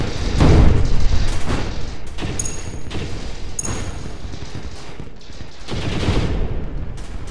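Missiles fire in a space battle arena in the video game StarDrive 2: loud, rapid bursts of launches and booming impacts come in repeated waves, close and intense, with no speech.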